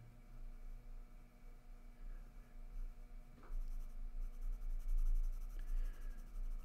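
Pencil scratching across paper while drawing a portrait, a close continuous soft scribbling that grows busier and louder midway, with no talk over it.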